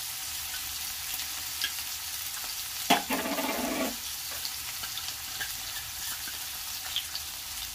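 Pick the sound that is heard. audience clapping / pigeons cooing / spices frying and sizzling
spices frying and sizzling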